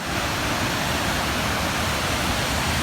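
A waterfall on a Pennsylvania hike roars as a continuous broadband rush of falling water, loud and close, with no voices over it.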